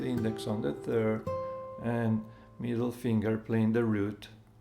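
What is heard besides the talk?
No everyday noise stands out behind the speech.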